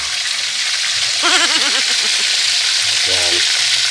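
Chicken pieces seasoned with salt fry in a pan with a loud, close sizzle, and brief stirring sounds come through under it.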